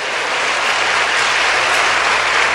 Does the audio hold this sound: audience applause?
yes